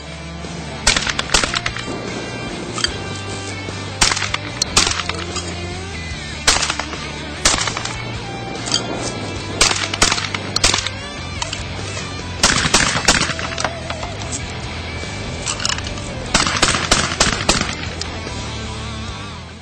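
A Beretta Extrema 2 shotgun being fired outdoors: loud, sharp blasts in irregular clusters, some in quick succession, with short gaps between, no talking.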